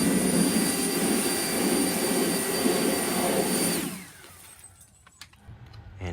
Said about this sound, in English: a leaf blower makes pretty quick work